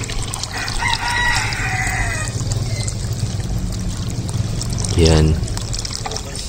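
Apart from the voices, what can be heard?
water being poured into a container of mosquito larvae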